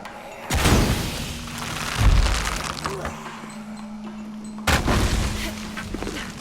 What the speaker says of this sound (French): Une explosion élèverait la plateforme